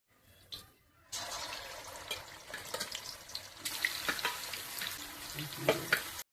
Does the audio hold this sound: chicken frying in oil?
yes